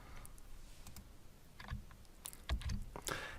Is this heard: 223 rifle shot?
no